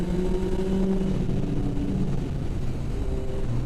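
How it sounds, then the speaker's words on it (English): A Yamaha XS1100 motorcycle downshifts inside a tunnel, its engine note booming and reverberant as the revs shift, loud and continuous with no voices. "We'll try a downshift through the tunnel here."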